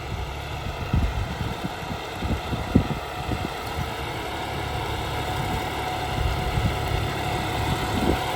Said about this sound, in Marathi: हा तर रोटावेटर का चालू आहे ट्रॅक्टर पण किती सायलेंट चाललाय बघा